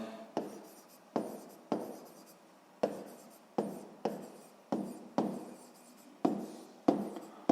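Pen or chalk writing out a sixth-grade math solution by hand, heard as a series of about a dozen short, close scratching strokes, each starting sharply and trailing off, with brief pauses between them.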